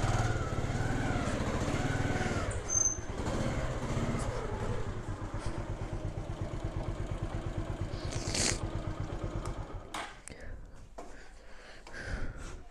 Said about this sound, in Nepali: बाइक राख्दैछु म भित्र